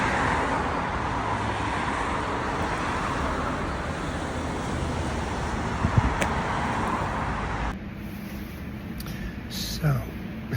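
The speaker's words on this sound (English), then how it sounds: "Here comes the bus." A city bus pulls up amid steady roadway traffic in Nagoya, Japan. Engine and road noise rumble continuously, then thin out near the end as the bus stops, with a few brief hisses and clunks.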